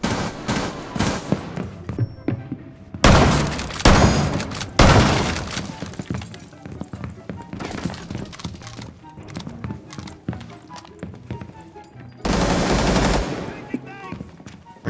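Gunfire in the game Rainbow Six Siege, several loud bursts of rapid shots with sharp cracks and shattering debris between them, up close, with other game sounds in the background.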